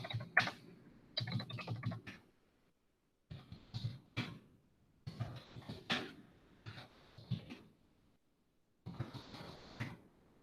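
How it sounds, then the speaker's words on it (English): Rapid tapping of buttons on a graphing calculator while entering a list of values, in several short bursts separated by brief pauses, close and fairly quiet. "Stat, edit, and we have to just type in these values."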